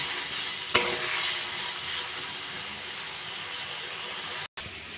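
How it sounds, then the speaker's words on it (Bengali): Potatoes with salt and turmeric fry over a high gas flame in a steady, close sizzle. A sharp utensil clack comes early, and the sound cuts out briefly near the end. "এবার গ্যাসের ফ্লেমটা বাড়িয়ে আলুগুলো ভালো করে ভেজে নেব।"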